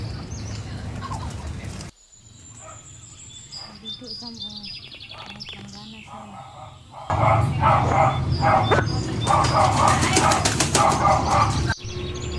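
Ducks splash and bathe in a basin of water, with wet flapping and bursts of quacking that grow loud and busy in the second half, while other fowl call nearby.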